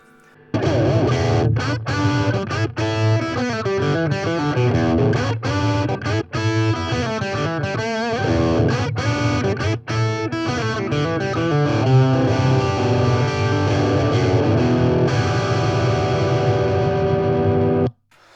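Electric guitar played through a Roland Cube amp on its overdrive setting with plenty of gain and boosted mids, loud and continuous chords and riffs with no talking.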